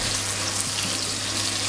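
Ground spice paste sautés in hot cooking oil in a pan, giving a loud, dense, continuous sizzle and crackle throughout, close by, with no voices.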